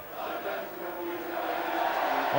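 A big crowd at a 1993 Challenge Cup rugby league quarter-final at Headingley makes a loud, swelling roar that builds steadily through the clip.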